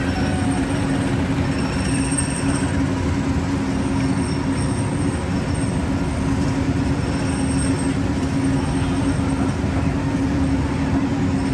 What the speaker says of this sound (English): I think we're on our 5th generation of monorail train.